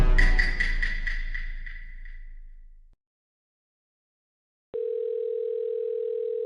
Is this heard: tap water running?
no